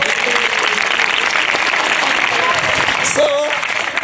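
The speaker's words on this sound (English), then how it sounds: "Clap for that love." Audience applause at a spiritual talk, a steady wash of many hands clapping throughout, with a few voices briefly audible near the end.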